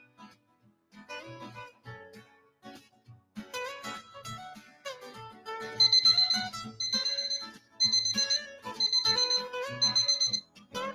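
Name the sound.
smart home alarm system being armed from app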